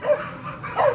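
Hunting dog pups give short, high yips and barks at a hog inside a bay pen, two loud bursts separated by a brief lull, close by and without talk.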